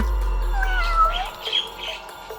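A person imitates a cat's meow, two drawn-out mewing calls followed by softer high squeaky sounds, fairly close and clear.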